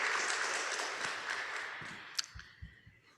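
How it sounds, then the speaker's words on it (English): A summit audience in a hall claps in a round of applause after a presentation. The clapping is thick at first, then fades away, leaving a few scattered handclaps and knocks at the end. "another round of applause for that presentation"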